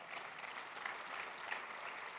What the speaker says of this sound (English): Yeah, we can give a clap for Tara.